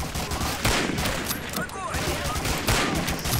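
Rapid bursts of gunfire from Medal of Honor: Allied Assault Spearhead, a loud, dense fusillade of overlapping shots and automatic fire that runs continuously through the whole stretch.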